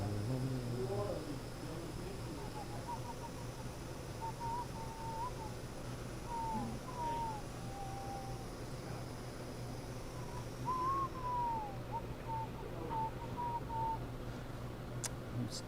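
Someone whistles a wavering, tuneful melody, faint and broken into short phrases, over a steady low hum and background noise.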